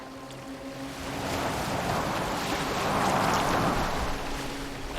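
Waves and wash surround a small boat being rowed across the water in Assassin's Creed Valhalla, a soft continuous splashing and rushing sound that swells slightly midway, with no voices.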